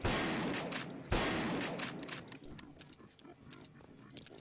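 Winchester rifle shots in Garry's Mod, two loud sharp blasts a second apart, each followed by a long decaying echo, then quieter clatter.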